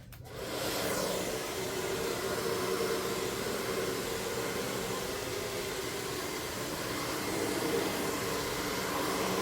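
Hair dryer blowing out a doll's hair: a steady, even whooshing airflow that starts almost at once and runs unbroken for about nine seconds, close and moderately loud, with no talking.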